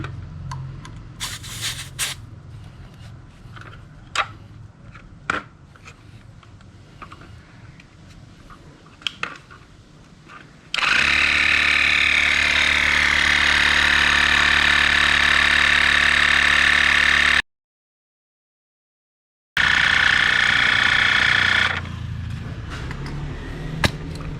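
A pump inflates a motorcycle front tire at home, giving a loud, steady mechanical hum that runs for several seconds, stops briefly, then resumes before a quieter ending.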